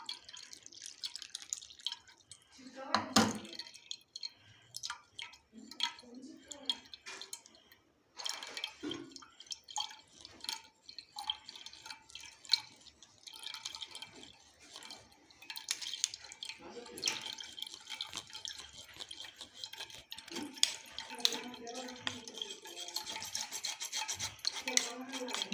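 Liquid from soaked wheat is strained at home for wheat chik, with quiet close-up dripping, trickling and scraping sounds that come and go irregularly.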